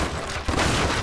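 Explosion and gunfire in the video game Stranglehold, a dense, loud burst of blasts and rapid shots filling one brief second.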